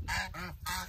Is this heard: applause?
no